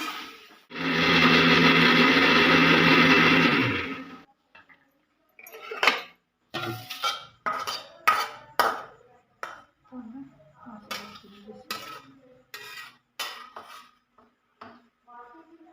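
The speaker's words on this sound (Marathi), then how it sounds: "आता आपण टोमॅटो ऍड करूया त्याला मिक्स करून घेऊया" Tomatoes are tipped into a cooking pan with a loud burst of sizzle lasting a few seconds, followed by repeated metal spoon clanks and scrapes as they are stirred.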